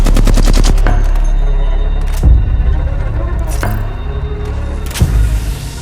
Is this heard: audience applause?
no